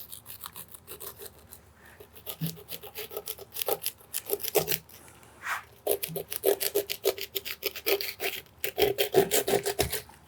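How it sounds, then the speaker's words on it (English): A serrated knife sawing along a bluefin tuna fillet, close scratchy rasping strokes in uneven bursts with short pauses between cuts. "you're gonna use the serrated side and just outline your fillet"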